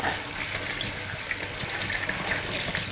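Running water rinses sprouted seeds held in a colander, a steady close wash of splashing and trickling that continues without a break.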